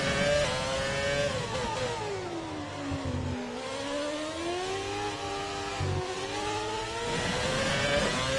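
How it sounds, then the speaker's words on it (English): A classic F1 car engine screams in F1 2020 at Japan's circuit, the pitch dropping through downshifts then climbing again under acceleration, loud and continuous. "Love the sounds of these classic F1 cars."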